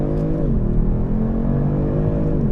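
A 2020 Kia Stinger GTS AWD engine revs and pulls hard under acceleration in first gear, a deep, steady rumbling drone that rises and shifts in pitch, loud and close throughout.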